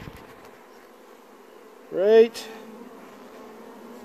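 Honeybees on a hive frame holding a queen cell buzz as a low steady hum, with a brief louder swell of buzzing midway; a person speaks a single word.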